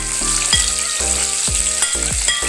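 Onions tossed into hot oil for Chicken 65 sizzle and crackle steadily and loudly, with a few clanks of a utensil stirring the pan up close.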